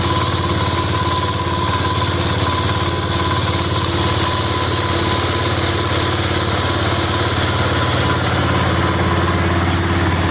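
A Case IH 444 tractor engine idles steadily after a fuel pump rebuild, a loud continuous close-up rumble with no change in pace and no voices.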